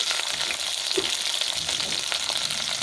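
Onions, green chilies and dried red chilies frying in an oil-filled pan, a dense, steady close sizzle with light stirring scrapes and no talk.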